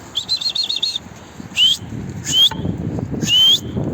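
Birds chirp in short bright phrases, a warbling trill followed by three quick rising tweets, with soft fluttering wingbeats between them, close by.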